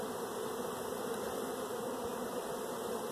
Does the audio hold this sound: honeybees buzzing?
yes